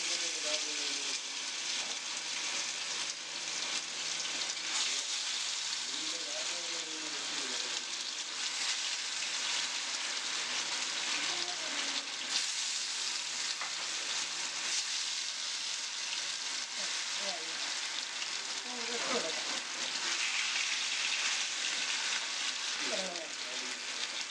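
Avoli fish frying in hot coconut oil for a Kerala-style fry, a loud steady close sizzle lasting throughout with occasional faint crackles and brief background voices.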